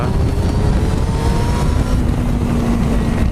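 An old carbureted 600cc motorcycle engine runs loud and close, a rough rumbling drone whose pitch climbs gradually as the throttle opens.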